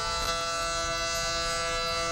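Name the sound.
tornado sirens sounding in Greenback, East Tennessee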